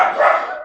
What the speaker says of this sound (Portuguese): Cachorrada não fica quieta.